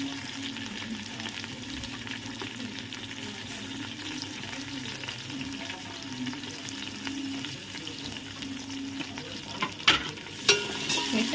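Fresh mint and coriander stirred and sautéing in oil for a biryani: a steady, close frying sizzle with scraping stirs, then a few sharper knocks of the utensil near the end.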